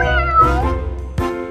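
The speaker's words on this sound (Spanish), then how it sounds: "es un gato" A cat meows twice up close: one long, drawn-out meow, then a short pause and a second meow starting, loud and clear with no voices.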